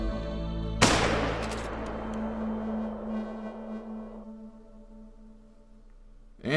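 One sharp rifle shot cracks out in theHunter: Call of the Wild while hunting game. It is loud and sudden, then rings off with a long echoing tail and a steady tone fading behind it.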